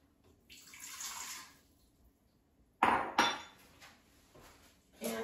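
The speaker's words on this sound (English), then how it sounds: "And I'm going to add a cup of water." Water poured from a cup into the inner pot of an open Instant Pot, a hollow splashing pour followed by sharper clinks and knocks of cookware, heard close with no talk.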